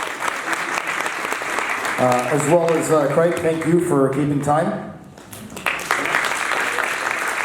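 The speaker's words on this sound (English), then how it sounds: "Can we get a round of applause for the moderator?" Audience applause in a theatre after a local ward candidates' debate, fairly loud and sustained, with someone speaking over the middle as the clapping dips briefly and then swells again.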